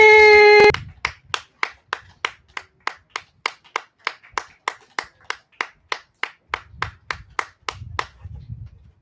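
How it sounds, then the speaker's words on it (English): An audience claps for a new performer on stage, sharp, evenly spaced claps in a slow steady rhythm after a brief tone, with faint murmuring near the end. "Y'all just gonna stop clapping?"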